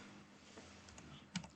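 A handful of light keystrokes on a computer keyboard while typing a command at the command prompt, faint and close, ending with a couple of sharper clicks like an enter press.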